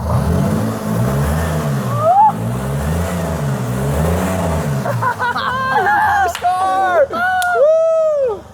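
An old car engine, running again after sitting for 20 years, idles steadily and then revs loud and close, with voices talking over the later part.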